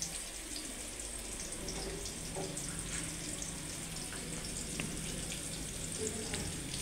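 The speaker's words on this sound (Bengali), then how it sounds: "সামান্য পরিমাণ জিরে দিলাম" Cumin seeds hit hot oil in a home kitchen pan, producing a soft, steady hiss and crackle of frying, fairly quiet and uninterrupted.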